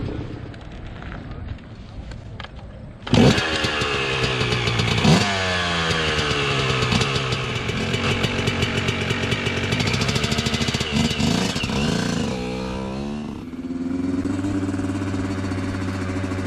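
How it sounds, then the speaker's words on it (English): A Yamaha YZ125 two-stroke dirt bike is being ridden, with a loud engine that kicks in abruptly and climbs and falls in pitch as the rider works through the power band, sustained and fairly near, then easing off toward the end. "I'm also going to bring up the speed a little bit and just see how manageable this YZ125 is, but with its two-stroke power band."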